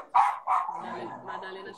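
A dog barks twice in quick succession nearby, loud and sharp, followed by a quieter trailing whine or voice in the background.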